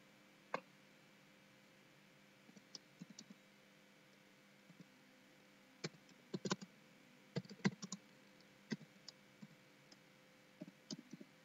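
Sparse, quiet clicking of computer keyboard keys, with short irregular bursts of keystrokes separated by pauses, heard alone in a quiet room.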